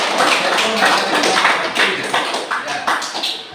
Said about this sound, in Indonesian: Tepuk tangan dulu untuk ya.